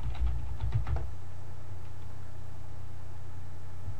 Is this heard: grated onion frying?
no